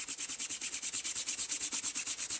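Rapid back-and-forth scrubbing of fabric with a toothbrush, soap and water, a quick even rhythm of bristly strokes, close and fairly soft.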